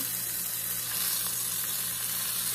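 A rump roast sears in a hot pan, giving a steady, close hiss of sizzling fat that holds level throughout with no talking.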